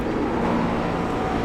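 A GT3 race car in the iRacing sim on the Nordschleife, a steady dense engine drone with tire and road rumble, constant and close with no talking.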